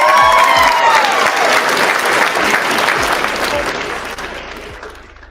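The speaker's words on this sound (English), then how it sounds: "give him a hand clap, please" A class audience applauds a donor with loud, sustained clapping that slowly fades toward the end, while a faint voice sits beneath it.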